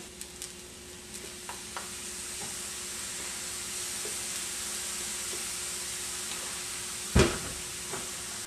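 Tofu frying in a pan after a splash of Bragg's liquid seasoning, a steady close sizzle with a few light clicks and a sharper burst of hissing near the end.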